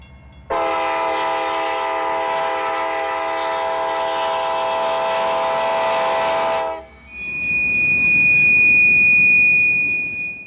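A mine switcher locomotive hauling hopper cars of wet rock phosphate sounds its horn in a long, loud chord for several seconds, then cuts off, leaving a rumbling train and a high, steady wheel squeal.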